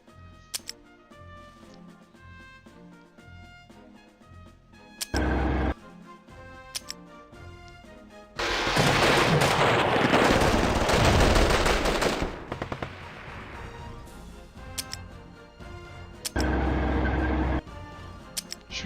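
Video game gunfire in the strategy game People's General as Hind helicopters are shot down: sharp clicking ticks and rattling bursts, then a loud sustained roar of fire and explosions, with short heavy thuds.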